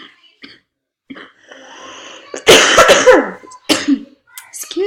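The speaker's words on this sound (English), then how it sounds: "I got this terrible cough." A person coughs hard several times in a close, loud cluster, with throat clearing and breathy sounds mixed in between brief spoken words.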